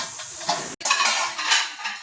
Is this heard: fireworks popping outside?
no